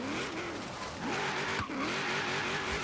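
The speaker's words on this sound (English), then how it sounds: "4th gear, and we're just hanging this burnout, man." A Chevy SS being pushed through a supercharged burnout in Forza Horizon 3, its engine note climbing and shifting through the gears, roaring loud and continuous with tire squeal throughout.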